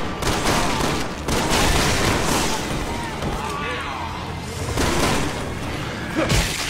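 Sustained gunfire in the video game Resident Evil 6, a dense, continuous fusillade of shots and bursts heard loudly throughout without a break.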